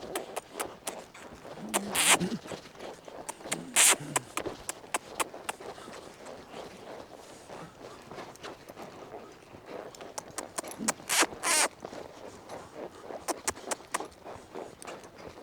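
A horse lopes around an arena, its hooves landing in a loose repeating rhythm of soft thuds, close by, with occasional sharper scuffs and tack jingle.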